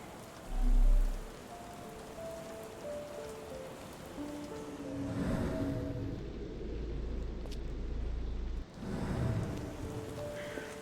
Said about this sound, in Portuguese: Sim, ainda está chovendo.